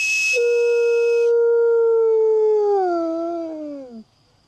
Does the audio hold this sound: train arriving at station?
no